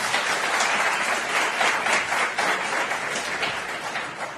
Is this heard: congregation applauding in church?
yes